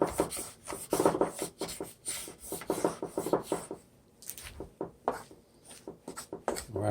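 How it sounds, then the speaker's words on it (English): Garlic being scraped up in a pan while cooking a kale and spinach stir fry, a close, repeated rasping scrape of a utensil across the pan in quick strokes, briefly pausing before resuming, with faint voices in the background. "Scrape up the garlic."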